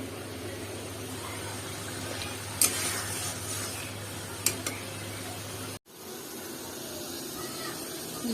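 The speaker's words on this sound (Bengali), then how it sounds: "মাছটাকে একটু কষিয়ে নেব" Fish being sautéed and stirred in a pan for a Bengali fish and sweet pumpkin dish, a steady low sizzle and hiss with two sharp utensil scrapes, then a brief cut before the frying resumes.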